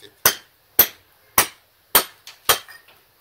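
A hammer strikes a rough cast wall to hack it up, six sharp loud blows spaced about half a second apart, each followed by a short crumbling decay.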